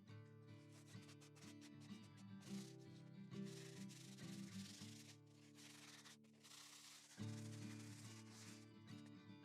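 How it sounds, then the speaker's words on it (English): Dry, scratchy strokes of 220 grit sandpaper rub over a concrete leaf-imprint planter in a steady back-and-forth rhythm, close and fairly faint, with a low hum running beneath them throughout. "A little bit of 220 grit sandpaper."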